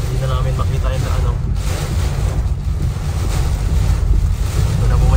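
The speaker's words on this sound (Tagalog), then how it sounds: "ang lakas po ng hangin guys" Strong storm wind roars and buffets the microphone in a continuous rushing blast, with low rumbling gusts that swell toward the end. A voice speaks beneath it.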